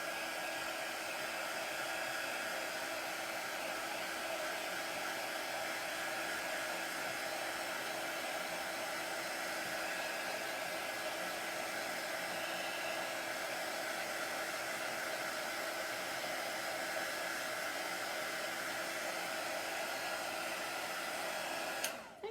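A hair dryer or heat tool blows steadily over chalk paste on a craft project, a constant close, loud airy whoosh that runs unbroken for the whole stretch and cuts off abruptly at the end.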